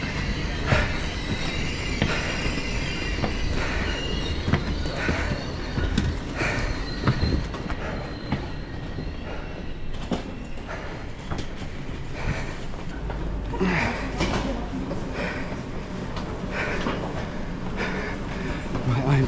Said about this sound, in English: Listen, that's my train.